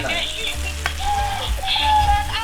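Pork sizzles and fries steadily in a pan while pinakupsan cooks, a continuous close crackle with occasional clinks and a voice talking faintly in the background.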